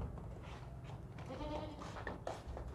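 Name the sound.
goat bleating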